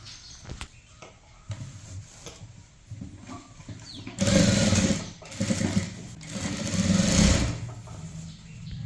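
A sewing machine stitches a folded one-inch hem on a chudithar pant. A soft motor hum and light handling noises come first, then two loud, steady runs of whirring stitching.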